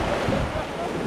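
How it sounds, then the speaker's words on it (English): Cold sea waves roll and break near the shore in a steady, close, broadband wash with wind noise buffeting the microphone and no clear separate crashes. "Some bigger waves coming as well."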